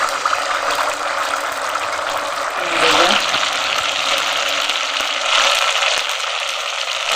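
Malpuri batter, made about as thick as dosa batter, is poured slowly into oil heated on a medium flame and sizzles in a steady bright hiss, with brief swells as more batter goes in.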